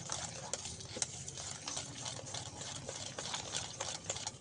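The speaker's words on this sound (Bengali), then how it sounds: "সামান্য বেকিং পাউডার দিয়ে দেব, দিয়ে আবারও সব কিছু মিশিয়ে দেবো একসঙ্গে সব উপকরণ" Paneer batter being mixed with baking powder, a soft, faint, continuous scraping and stirring with quick repeated strokes close by, without talk.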